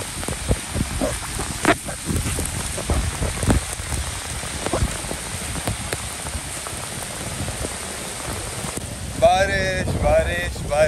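Heavy rain from Cyclone Michaung pours down on a Chennai street, a dense and constant patter with gusts of wind and a few louder drips. Someone talks briefly near the end.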